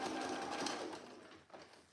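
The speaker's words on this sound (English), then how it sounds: "And we're stitching the facing down onto the seam allowance." A sewing machine stitches a facing down onto the seam allowance of a jacket in bulky fabric, a soft, fast continuous whirr that slows and fades near the end.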